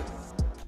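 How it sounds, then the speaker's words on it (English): A short downward swoop effect used as a transition in a Spanish-guitar trap beat, a single quick falling sweep lasting well under a second over a quiet backdrop. "And then I put a little effects transition here"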